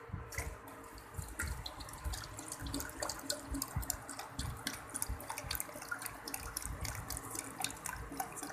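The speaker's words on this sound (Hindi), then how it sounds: "अब हम इसमें ठंडा पानी डालेंगे।" Cold water poured into a malanga sharbat drink in a village kitchen, a steady splashing stream with scattered drips, fairly faint and continuous, with no talk.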